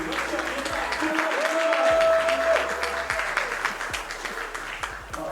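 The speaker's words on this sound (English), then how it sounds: "one more round of applause, guys" Applause at an esports LAN championship event, a burst of crowd clapping that swells and then fades under an announcer's voice talking over it.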